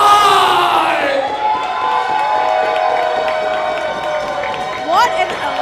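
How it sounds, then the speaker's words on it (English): Wrestling arena crowd at an 880 Wrestling event cheering and roaring loudly and continuously as tag team champions are introduced, a dense sustained wall of voices with whistles and shouts rising over it. "What an electric response from the crowd."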